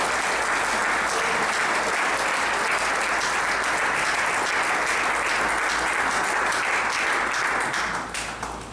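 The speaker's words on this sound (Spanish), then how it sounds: "Fuertes aplausos al Señor." Loud, dense applause from a large audience at a doctrinal symposium, a steady wash of many hands clapping at once that holds for several seconds before easing slightly at the end.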